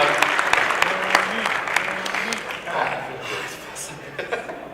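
An audience welcomes a presenter onstage at the Adobe Creative Cloud Super Meet at NAB 2014 with steady, dense applause, scattered chuckles and crowd murmur, loud and close, tapering slightly near the end.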